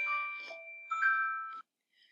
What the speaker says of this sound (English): So you don't have to hear the chimes in the background.